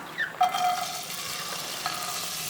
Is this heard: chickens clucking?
no